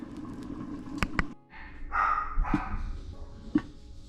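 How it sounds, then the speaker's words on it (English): Several dogs bark in loud, irregular bursts close by in a home kitchen while a pot of Louisiana jambalaya cooks, with sharp yaps and a short whimpering pause between volleys. "Let me get these dogs quiet."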